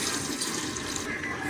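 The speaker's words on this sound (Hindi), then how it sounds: "अब हम इसमें पानी डालते हैं।" Water pours steadily into a cooking pot, a continuous bright splashing rush for under two seconds, close and alone.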